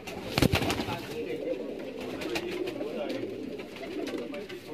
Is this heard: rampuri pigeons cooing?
yes